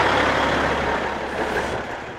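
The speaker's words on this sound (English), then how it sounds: "So we got the shop truck out." A shop truck engine runs steadily at idle on a farm yard, a broad loud rumble with continuous noise that eases slightly toward the end, no voices.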